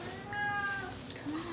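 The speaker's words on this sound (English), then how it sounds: "He's 21 years old and everybody's favorite YouTube cat." An elderly 21-year-old cat gives a faint, short meow over a noisy indoor background with a murmur of room sound.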